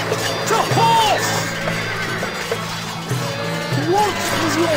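Horses neigh and whinny over steady clip-clopping hooves in the medieval strategy game Stronghold Crusader, with several loud whinnies rising above the trotting and a faint rumble beneath.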